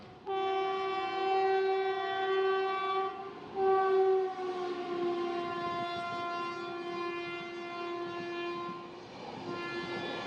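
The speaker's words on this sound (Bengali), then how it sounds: "এদিক দিয়ে এখন থ্রু পাস করে চলে গেল নিউ দিল্লি দারভাঙ্গা এক্সপ্রেস" The New Delhi–Darbhanga Express passes through on the railway in Uttar Pradesh. A loud, long train horn blares twice with a short break between the blasts, over the steady rumble of the passing train.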